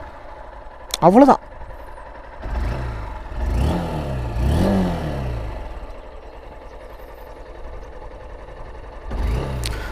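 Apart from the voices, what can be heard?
Honda Unicorn 160 motorcycle engine starting and revving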